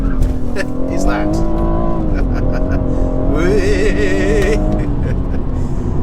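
A rear-wheel-drive BMW M140i in Sports Plus mode with traction control off, driven hard: a loud, continuous engine roar that climbs and dips in pitch through the revs, close and steady throughout.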